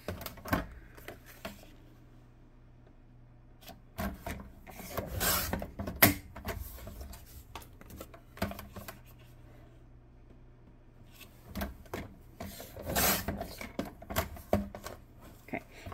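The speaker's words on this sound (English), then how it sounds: "So we're going to cut this little flap here off and this flap here off." Scissors cutting the cardboard flaps off an empty drink stick box, heard as bursts of rasping, scraping snips in two clusters with quiet pauses between them, close and with no talking.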